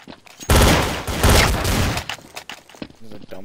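Pistol fire in the video game Counter-Strike: Source. Two loud, dense bursts of shots crack close together, then smaller pops and a brief voice near the end.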